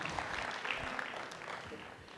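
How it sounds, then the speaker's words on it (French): Steady applause from an audience at an evening livestock show in a large arena, sustained and fairly distant, continuing evenly throughout. "On peut applaudir cette très belle présentation"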